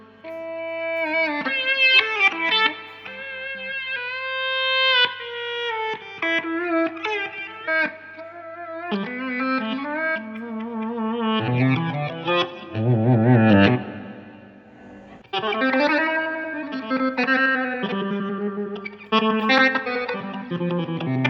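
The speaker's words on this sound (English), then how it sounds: "It's a reverse delay" Electric guitar through a Line 6 DL4 delay pedal set to reverse delay: swelling, backward-sounding notes and chords bloom and smear into one another, with a continuous wash of repeats and no talking.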